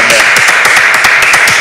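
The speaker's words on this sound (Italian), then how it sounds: "Ok, applauso." An audience applauds a band at an unplugged show, a loud, dense burst of clapping heard close up with a faint voice mixed in underneath.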